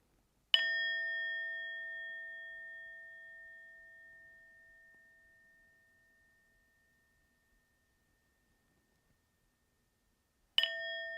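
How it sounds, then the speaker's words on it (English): A meditation bell is struck once and rings with a clear, sustained tone that slowly fades into silence, then a second strike sounds near the end. "Just noticing the sound of the bell as it permeates into the stillness."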